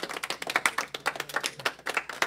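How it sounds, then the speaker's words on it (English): Middle school drama audience clapping after a Hairspray Jr. performance, a small group's quick, uneven hand claps close by, fairly light and steady throughout. "Give yourselves a round of applause"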